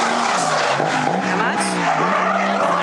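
Race car skidding across the track and into the tire barrier, a continuous loud squealing and scrubbing that holds steady throughout, with engine drone beneath and a faint voice in the mix.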